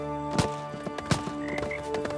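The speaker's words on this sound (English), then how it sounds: "Oh, they actually added a frog." Frog croaks in the ambient soundscape of the video game Bootstrap Island, a few distinct croaks spaced irregularly over a steady low background hum, fairly close and clear with no talking.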